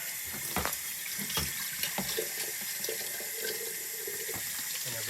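Water runs from a tap while dairy milking equipment is washed and scrubbed with soap. The flow is steady and close, with a few clunks and splashes mixed in, and no one speaks.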